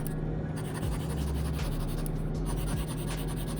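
A thin stylus glides over the matte screen protector of an Ugee UE16 pen display, giving a continuous, close, paper-like scratching that holds steady throughout with no talking.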